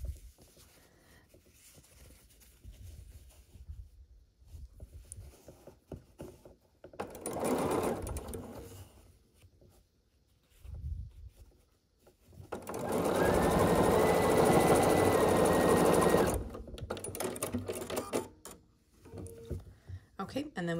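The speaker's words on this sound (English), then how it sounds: "And then we have one final seam to sew across the center of the block." A sewing machine stitches a quilt block seam in two bursts, a short run followed by a longer steady whir of rapid needle strokes, close and clear between quieter handling sounds and spoken instruction.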